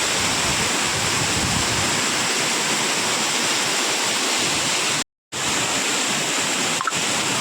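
Vyaghreshwar waterfall in Manche, Konkan, pours from a height with a loud, constant close-up roar of falling water. The roar cuts out for a split second, then resumes unchanged.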